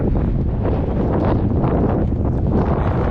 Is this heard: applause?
no